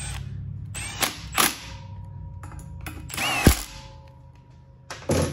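Power tool driving bolts to fasten down a clutch, several short whirring bursts with pauses between, close, amid workshop clatter and no talking.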